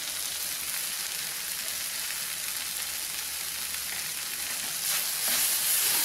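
Snake gourd poriyal sizzles and fries in a pan with lentils and a little salt, a steady close hiss of frying with soft scraping stir sounds throughout, slightly louder near the end, and no voices.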